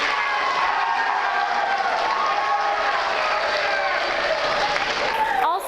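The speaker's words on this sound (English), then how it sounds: "So I'd like to give him a quick round of applause if we could." Audience applause at the Mr. Windber 2018 contestant event, a dense steady wash of clapping filling the room from start to finish before cutting off abruptly at the end.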